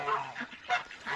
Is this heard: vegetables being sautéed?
no